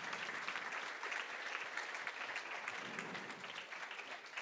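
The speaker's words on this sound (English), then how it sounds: "big applause" Audience applause after a quantum computing tech talk, a steady, even patter of many hands clapping that sounds somewhat distant and continues throughout without any voices.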